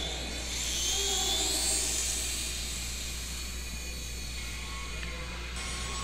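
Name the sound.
RC model airplane servos moving elevator and rudder during control check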